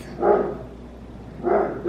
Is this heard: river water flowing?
no